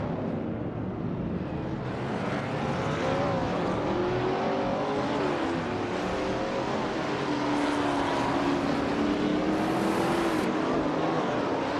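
Prototype 1960s race cars in a racing video game roar past one after another, engines droning and shifting pitch as they accelerate, a loud continuous wash of motor noise.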